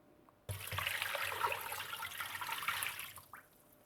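Water pours steadily into a cooking pot for chicken soup stock, a bright splashing rush that starts abruptly, holds for about two and a half seconds, then tapers to a trickle.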